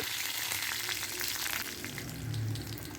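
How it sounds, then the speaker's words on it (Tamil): Curry leaves, dried red chilies and a small lump of tamarind fry in a little hot oil in a kadai, giving a steady dense sizzle throughout with no voices. "கடாய் சூடு பண்ணி கொஞ்சமாக எண்ணெய் விட்டுக்கோங்க ஒரு கொத்து கருவேப்பிலை நாலஞ்சு வரமிளகா சின்ன நெல்லிக்காய் சைஸ் புளி ஆட் பண்ணிக்கோங்க"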